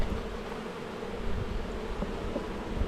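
Honeybees buzz inside an opened hive, a dense, close, continuous drone that holds steady throughout with no voices.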